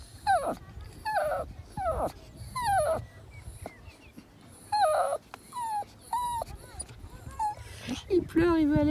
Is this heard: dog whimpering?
yes